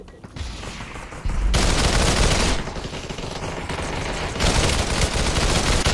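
Rapid gunfire in a video game, dense bursts of shots in two loud stretches, with a quieter pause between them.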